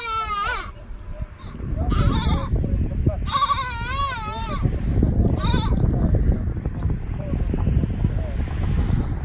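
Goats bleat several times in wavering calls, close and fairly loud, over strong wind-like rumble on the microphone, the cries fading out and leaving only the rushing noise.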